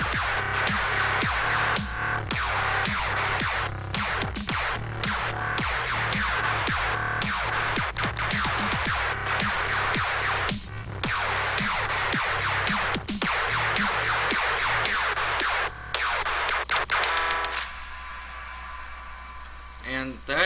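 A Serum synth laser pistol bass patch with effects plays a dense, continuous run of buzzy, zapping bass hits that fill the whole stretch before cutting to a thinner tail near the end.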